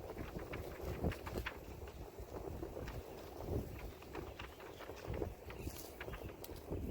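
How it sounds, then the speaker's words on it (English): Wind sweeps through grass on a windy afternoon outdoors, a steady soft rushing noise with gentle rustling surges and no voices, fairly quiet overall. "let's watch the wind go through the grass"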